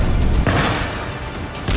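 Explosions from Israeli fighter jet missile strikes make a loud, sustained rumbling boom with a sharp burst near the start and another near the end. No voices are heard.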